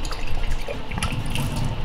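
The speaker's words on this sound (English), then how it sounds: "you put in like just about a quarter of distilled water, and then you shake it up like this" Distilled water sloshes and splashes as it is shaken in a lab container, a quick continuous liquid agitation heard up close for about two seconds, with no talking.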